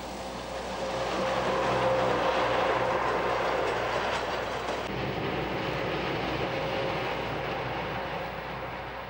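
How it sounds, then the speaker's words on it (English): A goods train grinding steadily up a steep rack section between Herbrigen and Randa, a continuous loud rumble with a mechanical drone and faint clatter throughout. "Our goods train has just entered the fifth rack section between the stations of Herbrigen and Randa."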